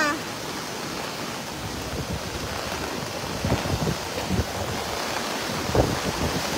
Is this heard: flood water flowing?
yes